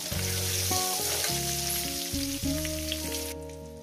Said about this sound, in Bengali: আমি এখানে একটা বড় সাইজের মুলো দিব দিয়ে এটাকে ভেজে নেব